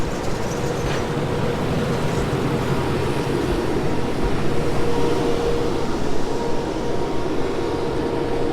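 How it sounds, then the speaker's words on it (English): Grand Canyon Railway train heard from inside the rear premium car, a continuous rumbling roll of wheels and carriage with a low steady hum, no voices. "There you have it, Grand Canyon train."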